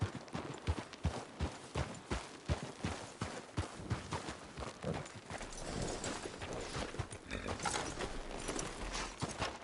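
Horses' hooves clip-clop at a steady walking rhythm in the video game Red Dead Redemption 2, loud, close and regular before settling into quieter background ambience.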